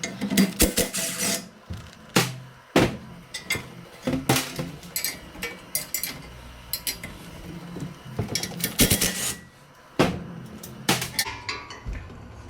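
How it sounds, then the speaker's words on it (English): A 7/16 wrench clinks and scrapes against the nut and bolt of a Jiffy Model 30 ice auger blade, with close, irregular metallic taps and clanks and no talking. "So you just get a 7/16 wrench on the backside on the nut."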